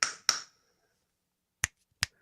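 Four sharp finger snaps from people in a room: two quick ones close together, a pause, then two more spaced apart, each crisp and near, with no talk.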